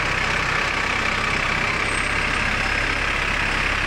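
Heavy traffic jam on Nathan Road, Hong Kong, at night: a constant, dense rumble of idling engines from trucks, buses and cars, with a faint high whine above it and no break throughout.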